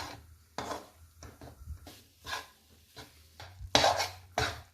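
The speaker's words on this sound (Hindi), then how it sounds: "आटे को आप लगातार चलाते रहिए और भूनते रहिएगा।" Flour roasting in ghee in a pan over low heat as a spoon stirs it, giving soft scraping and scattered clinks of utensil on metal in irregular bursts, near and fairly quiet, with no talk.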